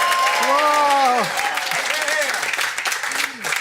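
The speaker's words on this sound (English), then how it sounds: "Give yourselves a nice big round of applause." A studio audience gives a round of applause during a variety show, with loud clapping that fills the space while an enthusiastic voice rises and falls over it throughout.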